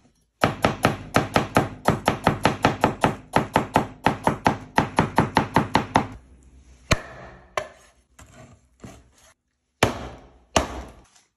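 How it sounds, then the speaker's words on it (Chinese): A knife on a cutting board chops half an onion and then ginger slices, first in a fast, even run of crisp close knocks and then in a few slower, scattered cuts separated by pauses. "第一步，先用你的左手切半个洋葱。 再用你的右手切一个生姜片。"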